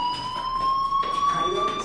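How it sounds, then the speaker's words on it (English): A school fire alarm rings in the video game Life is Strange, a loud, continuous electronic tone that sounds on without a pause throughout. "do you hear that fire alarm? That means you should be outside."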